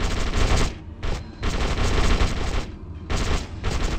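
Sustained volleys of gunfire in The Suffering: Ties That Bind, loud and close, in long dense bursts broken by a couple of brief pauses, with no talking.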